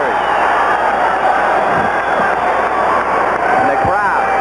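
Stadium crowd at a Houston Gamblers at Michigan Panthers football game roaring and cheering steadily just before the second-half kickoff, a dense continuous wash of voices with scattered whoops.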